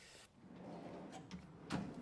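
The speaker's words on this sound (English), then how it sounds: "We've got a rear trundle drawer tucked in here neatly." A large rear trundle drawer slides out of the back of a 2024 Toyota 79 Series with a portal axle conversion, giving a brief rolling scrape with a couple of sharper knocks near the end, heard close and alone.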